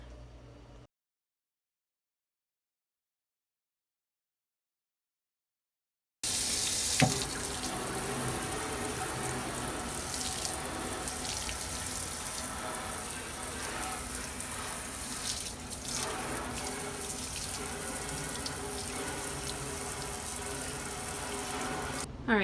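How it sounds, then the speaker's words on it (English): Water runs steadily from a tap into a basement sink during scrubbing, a loud continuous rushing hiss that starts abruptly after a brief quiet moment and holds for the rest of the stretch. "I am done scrubbing the sink"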